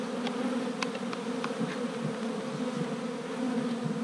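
Honeybees buzzing around a Mini Plus hive during feeding with pollen patty, a close, continuous drone with steady hum and occasional sharper passes of individual bees, no voices.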